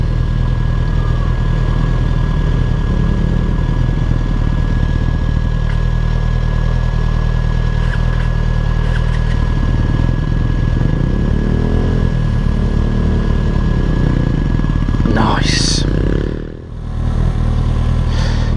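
A motorcycle held on the rear brake on the road during a CBT riding test, its engine running steadily loud and close at raised revs with a constant drone, briefly surging and dipping near the end.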